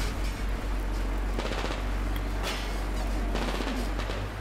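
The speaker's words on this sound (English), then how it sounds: "at least somebody is shooting at us" Enemy gunfire crackles in Metro Exodus, with several separate bursts of rapid shots at moderate distance over a steady low background hum, spaced a second or so apart.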